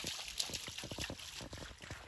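Spring water trickling and dribbling out of saturated ground in small irregular bursts, close by, with a faint steady high-pitched whine in the background.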